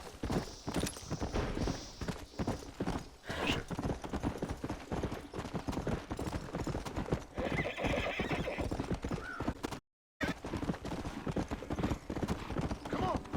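A horse in the Western video game Red Dead Redemption trots with steady clip-clop hoofbeats and lets out a whinny, mixed with game sounds and occasional talk throughout, with a brief dropout near the end.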